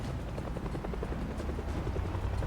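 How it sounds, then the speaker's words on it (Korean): Helicopter arriving in the zombie survival game Project Zomboid: a faint, steady rotor chop with a repeating rhythmic beat under low engine rumble, heard alone without talk. "헬기가 왔으면 우릴 데리고 가라고"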